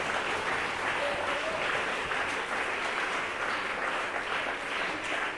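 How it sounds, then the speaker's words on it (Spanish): Church congregation applauding the Lord, a continuous dense roar of clapping from a large crowd that stays steady and fairly far off throughout. "Un aplauso para el Señor."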